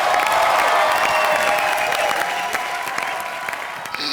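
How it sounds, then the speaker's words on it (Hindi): Loud, dense applause from a studio audience on a Hindi comedy show, saluting the film Junoon, a steady wash of clapping and some cheering that holds for about four seconds and eases slightly near the end. "उसके लिए भी जोरदार तालियां हो जाए।"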